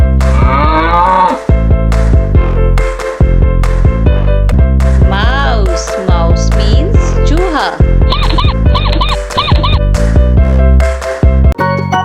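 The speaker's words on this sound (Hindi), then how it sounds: "याक. याक मीन्स याक." A yak lows in a series of deep, drawn-out calls. The calls are loud and close, repeating over about twelve seconds, with other tonal sounds mixed in.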